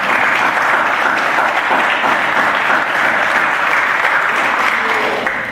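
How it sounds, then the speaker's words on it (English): Loud, sustained round of applause from an audience at a county freeholders meeting honoring student state champions and their parents, dense even clapping for over five seconds before tapering slightly at the end. "I think they deserve an even bigger round of applause"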